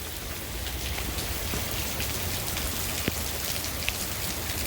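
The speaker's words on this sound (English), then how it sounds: "It is really raining." Heavy rain pouring down in a dense, steady hiss at close range, with a few scattered louder drops striking a surface.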